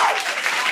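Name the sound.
audience applause welcoming podcast guest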